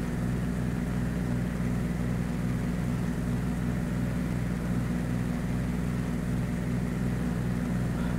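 A PA36 Pawnee Brave 375 propeller plane by Alabeo drones steadily in the Prepar3D flight simulator, a loud, constant low engine hum with a fast regular prop throb and no pauses.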